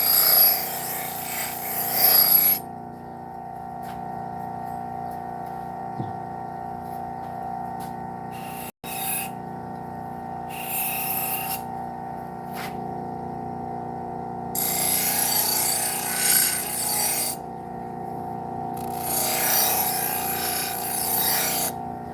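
Knife blade pressed lightly against a spinning leather sharpening wheel, giving a harsh rasping scrape in several bursts over a steady motor hum, with quieter gaps between strokes.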